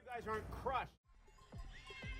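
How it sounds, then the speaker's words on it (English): Wild horses from the Spanish mountains, herded into an enclosure during the Rapa das Bestas tradition, give a loud, close, quavering neigh, followed by quieter whinnies and hoof clatter. "These wild horses are guided down from the Spanish mountains into an enclosure."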